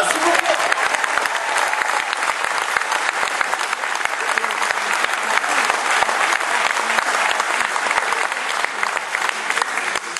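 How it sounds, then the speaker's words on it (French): Sustained audience applause fills a hall during an orchestra presentation, dense steady clapping from many hands for about ten seconds, loud and continuous with no break. "On applaudit Camille."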